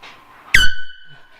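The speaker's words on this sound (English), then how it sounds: "Air horn." One short, piercing air horn blast from boat safety gear rings out sharply and close, then cuts off into near silence.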